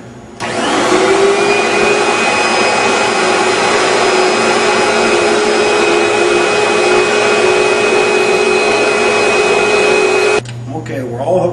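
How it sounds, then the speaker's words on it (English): A loud, steady vacuum motor of a Steamin Demon carpet extractor whines continuously at close range for about ten seconds, then cuts off abruptly, leaving a low hum. "You have a vacuum switch here. That turns the vacuum."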